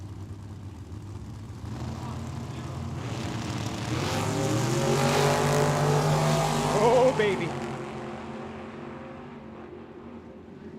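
A door car and a dragster launch side by side at Tucson Dragway, engine roar building to a loud peak then fading down the track, with a commentator's brief exclamation over it.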